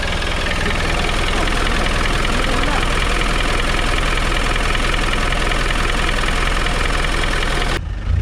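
A turbocharged Land Rover 200tdi diesel truck engine idles loudly and steadily, a dense rumbling drone with a rough knocking texture that holds constant throughout, cutting off at the end.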